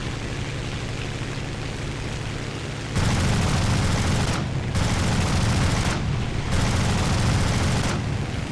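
Aircraft machine guns in the combat flight game War Thunder, heard as long, loud, noisy bursts of rapid fire over a steady engine drone, with brief gaps between three sustained volleys.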